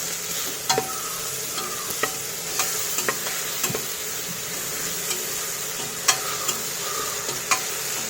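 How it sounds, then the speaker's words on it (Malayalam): Onion, tomato and spices frying in ghee for a South Indian style egg biryani masala, stirred with scattered scraping clicks over a steady, close sizzle. "ഇതെല്ലാം കൂടെ ചേർത്ത് നന്നായിട്ട് ഇങ്ങനെ ഇളക്കി"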